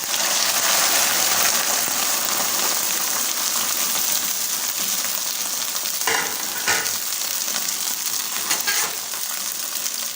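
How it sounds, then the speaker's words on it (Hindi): Okra (bhindi) frying in hot ghee gives a steady, dense sizzle that holds loud for about ten seconds, broken by a few brief stirring scrapes near the end, with no voices. "घी हमारा गर्म हो चुका है, तो हम भिंडी को फ्राई कर लेते हैं"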